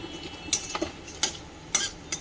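Bay leaf, dried red chilli, cinnamon, cardamom, clove and whole cumin hit hot oil with a faint sizzle, while a spoon scrapes and clinks against the pan in a few short, distinct strikes.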